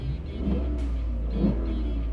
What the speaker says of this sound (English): the V8 engine is obviously the big selling point for Toyota here. It sounds great